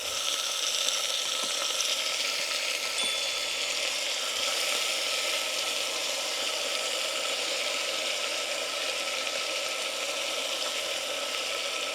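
Moong dal tipped into spices frying in hot oil, giving a steady, close sizzle that stays even throughout with no talk.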